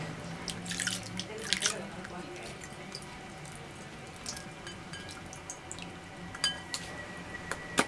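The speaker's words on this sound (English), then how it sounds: "Since this toy is not electronic, you can soak it in the water and nothing's gonna happen to it." A plastic toy dinosaur is soaked in a basin of water, with faint scattered drips, splashes and light clinks against the container, close up and quiet.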